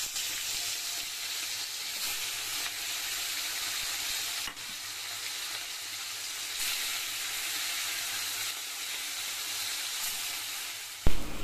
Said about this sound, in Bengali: কড়াই বসিয়ে দিয়েছি, তেলও গরম হয়ে গেছে। মাছটাকে দিয়ে দাও।